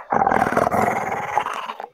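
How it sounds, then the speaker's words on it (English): A loud stomach growl rumbles for almost two seconds, a drawn-out, gurgling, animal-like groan with a wavering pitch that tails off toward the end, heard alone without any talk. "That was my stomach. I apologize."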